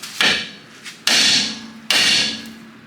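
Hammer blows on an axle nut of a Dana 30 front axle, three sharp metallic strikes spaced about a second apart, each ringing briefly before fading, close and loud.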